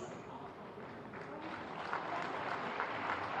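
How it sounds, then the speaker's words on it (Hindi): Audience applause at a Uttar Pradesh Day 2021 sports award ceremony in Lucknow, a steady broad wash of clapping that swells slightly louder toward the end. "आपकी तालियां इनका ही नहीं बल्कि हर एक खिलाड़ी का उत्साह बढ़ाएंगी"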